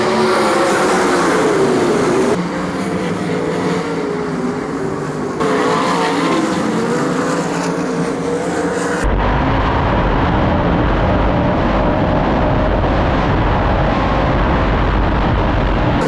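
Sprint cars racing side by side into turn one at the Knoxville Nationals: a loud, dense roar of engines that swells and shifts as the pack sweeps past, then settles into a steady, heavy drone.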